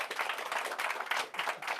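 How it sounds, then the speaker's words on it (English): A live audience applauds a magician's volunteer assistant during a mentalism show, dense steady clapping filling the room for a short burst with no voices over it. "Give her a round of applause of being assistant."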